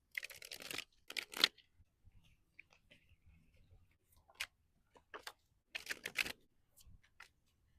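A tarot card deck is shuffled up close in short, crisp bursts of riffling and flicking, separated by quiet pauses, with no voices.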